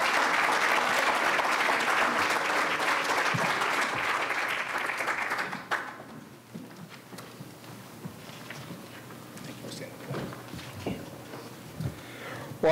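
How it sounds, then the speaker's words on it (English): An audience at a member meeting applauds a panel, with loud, dense clapping for about six seconds that then fades into scattered claps, shuffling and room noise. "Let's give a round of applause for our panel."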